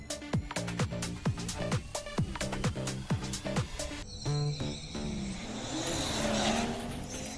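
Two BMW cars drag racing on a street-car event strip, loud engines revving and roaring with rapid gear-change bursts, then a sustained accelerating roar with tire noise as they pull away.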